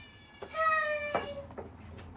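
A cat meows indoors: one drawn-out, tonal meow followed by a couple of short, softer chirps against a quiet room hum.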